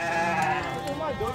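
Goats bleating in a pen at a livestock fair in Tabira, Pernambuco, a short wavering bleat close by, mixed with busy fair noise.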